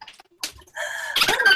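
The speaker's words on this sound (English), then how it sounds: "I hear like birds or something." Bird calls that resemble chickens clucking and squawking, a few short close cries followed by a louder sustained raspy call, with no talk over them.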